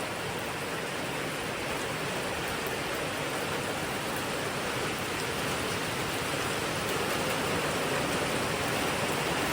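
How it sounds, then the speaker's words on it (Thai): Steady rain falls at night in a rural Thai setting, a dense continuous wash of drops that stays even and loud throughout, with no voices. "มื่อนี้นอนฟังเสียงฝนแล้ว"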